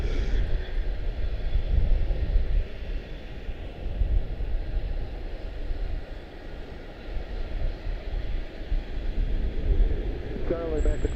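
A Lufthansa airliner bound for Munich rumbles steadily at Charlotte-Douglas International, a broad, continuous engine roar with wind noise, loud and sustained throughout, with faint voices in the background.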